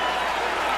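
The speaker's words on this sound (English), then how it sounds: "Crowd is rising for it." Boxing arena crowd roaring during a fight: a loud, continuous wash of cheering and applause with no pauses.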